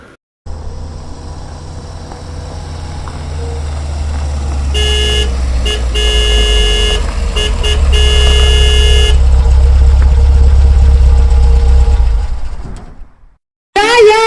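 A car engine idles and grows louder as it arrives, with a horn tooting in bursts midway, the motor swelling steadily before cutting off abruptly near the end.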